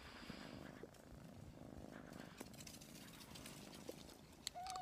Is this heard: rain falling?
no